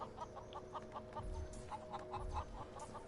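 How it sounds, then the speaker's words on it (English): Chickens in the video game Defiance 2050 cluck in a steady run of short rhythmic calls, fairly close, over a low background hum with a couple of soft thuds. "One of the few things you can do in this game, you can kill the chickens."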